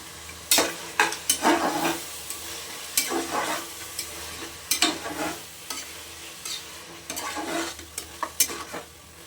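Tomato masala with ginger-garlic paste fries in a pan for chicken biryani, a steady sizzle broken by repeated bursts of stirring and scraping at close range, with no talking.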